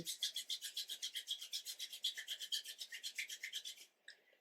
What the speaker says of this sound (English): Gently begin to rub the palms of your hands together, faster and faster